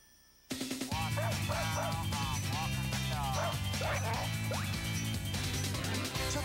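A dog barking in a TV commercial: a series of yips and bow-wow barks over a busy music bed, moderately loud and mixed with other jingle sounds.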